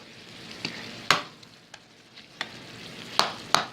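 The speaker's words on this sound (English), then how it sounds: "Now I put this on high heat so I could cook this faster and kill any bacteria or anything in the meat." Stew beef fries on high heat in a pan, a soft steady sizzle punctuated by several sharp scraping clanks as it gets stirred and chopped up.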